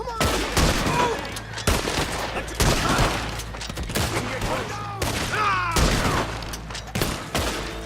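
Rapid gunfire in Red Dead Redemption 2, a dense fusillade of overlapping loud shots almost without pause, with shouting voices mixed in.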